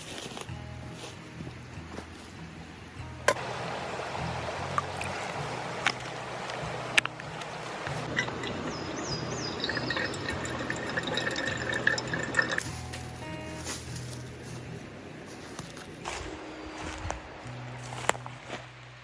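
Creek water is gathered from a Shenandoah creek bed while backpack camping: trickling and gurgling water with splashes, drips and clunks from a container being filled, close by and continuous, with footsteps and handling noises scattered throughout.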